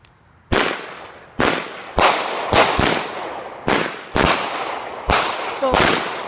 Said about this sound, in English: we got Crazy Exciting by World Class Fireworks